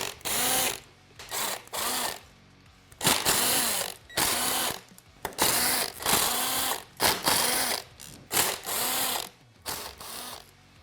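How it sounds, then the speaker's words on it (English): Engine cover bolts on a Yamaha YZ250F/450F being loosened with a ratchet, in repeated bursts of rapid close clicking separated by short pauses, loud and without talk. "we're just going to loosen all of these bolts in a crisscross pattern"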